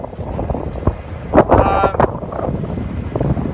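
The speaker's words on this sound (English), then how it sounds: "Starting to get very windy." Steady broadband wind rushing and buffeting against the microphone on top of a crane at Port Botany, with gusty swells and a brief louder burst partway through.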